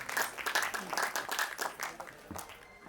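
Audience claps in welcome at a blanket distribution drive for people in need, a loose rhythm of distinct, fairly sparse hand claps that trails off near the end.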